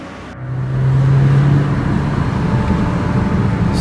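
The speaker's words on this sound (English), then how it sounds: "So I'm going to take it for a drive" A BMW 335i with the N54 engine, fresh from a coil and spark plug replacement, is driven along the road. Its engine hum swells in the first half second, then holds as a steady, fairly loud drone with road noise.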